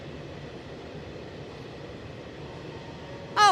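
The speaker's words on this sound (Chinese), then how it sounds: "这列又是货车，一共是有2节车头。" A long freight train hauled by two locomotives and carrying containers rumbles past a highway service area on the Fujian–Jiangxi border, a steady, even roar with a sharp, loud tonal burst right at the end.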